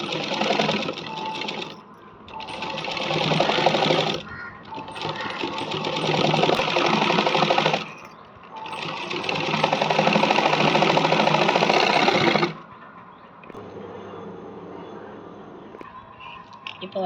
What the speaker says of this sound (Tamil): நான் எப்படி லேஸ் வச்சு தைக்கிறேன்னு கொஞ்சம் நல்லா பாருங்கள்.